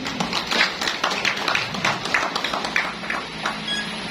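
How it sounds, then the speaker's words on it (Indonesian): Audience applause at a farewell ceremony for a departing police chief in Solok, steady scattered clapping through the whole stretch, fairly close and continuous without a clear peak. "Untuk itu izinkan kita aplaus untuk kita semua."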